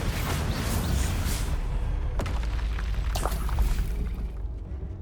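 A Bombarda blast spell goes off in the video game Hogwarts Legacy as a deep, rumbling boom with a sharp crack, followed by crackling debris that tails away over a few seconds.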